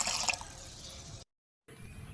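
Water running from a tap into a plastic basin, a steady close splashing stream that is cut off abruptly partway through and then resumes more faintly.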